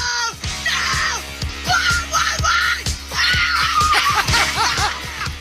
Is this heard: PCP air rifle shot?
no